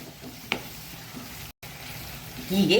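Methi matar malai gravy fries and is stirred in a pan, a soft close sizzle with a sharp scrape near the start and louder stirring scrapes at the end, broken by a brief dropout.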